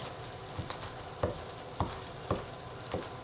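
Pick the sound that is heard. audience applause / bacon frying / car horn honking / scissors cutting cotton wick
bacon frying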